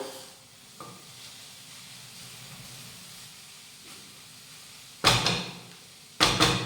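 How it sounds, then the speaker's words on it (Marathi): Cabbage steamed in a covered pan is stirred with a spoon, giving soft scraping and faint steamy hiss, then two louder bursts of clattering stirring near the end, with no voices. "अधूनमधून यावरचं झाकण काढायचं आणि हे मिक्स करून घ्यायचं"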